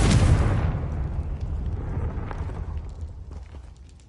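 Confringo spell blast in Hogwarts Legacy: a single loud, near explosion with a sharp onset that decays into a rumbling tail over several seconds, with faint debris crackle afterward.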